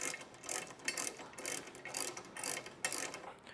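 Ratchet wrench tightening an 18mm bolt on a Nytop tow hook being installed on a Toyota 4Runner. Close, rapid clicking comes in short repeated bursts of cranking throughout, with no voices.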